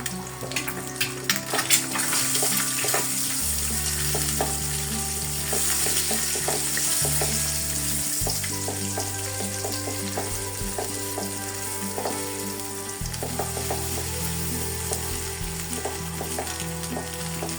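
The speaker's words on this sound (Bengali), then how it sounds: "এটা এখন আমি একদম নাড়াচাড়া করে ভেজে নেবো" Noodle spices and egg stir-fried in a hot pan, a steady loud sizzle and crackle running throughout with scraping stirs on top, no talking.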